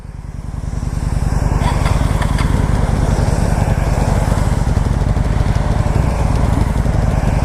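A Kawasaki Vulcan 900 cruiser motorcycle runs close by, its engine giving a steady, loud pulsing drone that swells up over the first second and holds at a fast even rhythm, with faint voices in the background.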